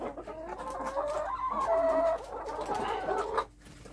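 A hen clucks and croons continuously at close range, a rising and falling throaty cackle lasting several seconds before fading.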